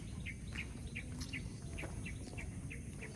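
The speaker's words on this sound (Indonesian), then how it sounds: "Suara burung." Birds calling in a teak forest, a repeated short chirping call sounding at a regular rhythm, moderately close, over steady background ambience.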